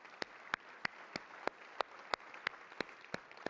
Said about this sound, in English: Would you join me in giving them a big round of applause?